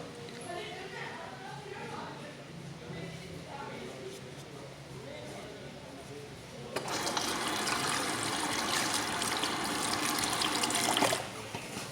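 A tap runs while hands are washed after working shaving soap lather, giving a steady close splashing flow that grows louder and fuller partway through.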